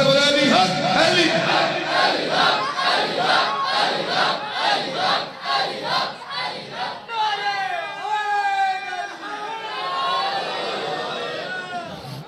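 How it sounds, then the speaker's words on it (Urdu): A crowd at a mourning majlis in Ahmad Pur Sharqia chants "Ali Haq Ali" in loud, rhythmic collective shouts that repeat several times, then swell into a longer, sustained mass cry. "ابھی ڈال میں آپ بلند کر کے سر بولے علی حق علی"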